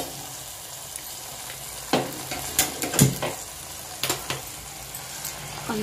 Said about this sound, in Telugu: అంతా బాగా కలుపుకోవాలి.